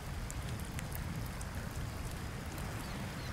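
Steady rain pours in the survival video game Project Castaway, a continuous even hiss with scattered droplet patter and no voices.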